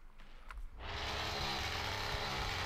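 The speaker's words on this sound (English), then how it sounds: "this chainsaw's so fucking loud now" Chainsaw in The Texas Chain Saw Massacre video game roars to life after a brief quiet moment, then drones loudly and steadily without letting up.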